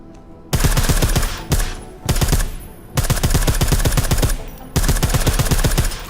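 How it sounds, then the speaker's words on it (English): Bursts of suppressed automatic gunfire from Deus Ex: Human Revolution, five loud rapid-fire volleys separated by short pauses, close and dominant. "I like how silencers reduce sound, but the trade-off is less stopping power, less damage per hit."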